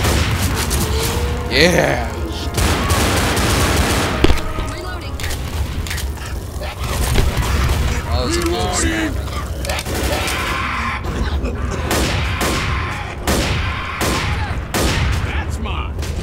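Dense gunfire from the zombie shooter Left 4 Dead during a custom campaign fight against a tank, smoker and boomer: sustained rapid automatic bursts and booming shots, loud and continuous, with players talking and shouting over the shooting.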